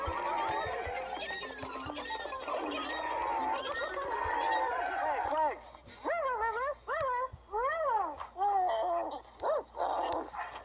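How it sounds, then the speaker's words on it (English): A dog gives a run of short, pitched woofs and yips, closely spaced and fairly near, following a busier stretch of mixed vocal sounds. "He went woofing that away."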